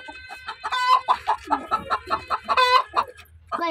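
A hen clucks loudly and rapidly right after laying an egg, a close, rhythmic run of sharp repeated calls with no talk over it.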